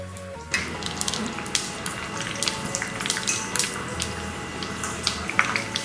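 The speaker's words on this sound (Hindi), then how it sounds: "अब हम एक साथ 4 से 5 पूरी फ्राई कर सकते हैं" Puris deep-fry several at a time in hot oil, giving off a continuous close sizzle with dense crackling and popping that keeps going without voices over it.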